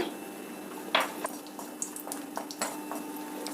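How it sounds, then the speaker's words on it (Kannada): Payasam bubbles in a pot on the stove with faint, irregular popping and gentle liquid burbling over a low steady background, close but quiet. "ಇವಾಗ ಪಾಯಸ ಕುದೀತಾ ಇದೆ"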